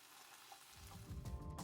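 Steady sizzling and frying of crepe batter for banh xeo in a hot pan, close and continuous, growing a little louder toward the end, with no talking.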